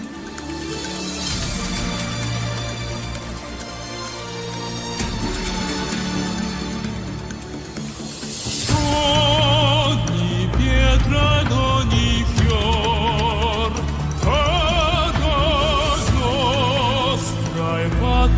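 A singer sings in a live performance: sustained, wavering vocal lines soar over a full backing that swells louder midway, heard at moderate level with no talk.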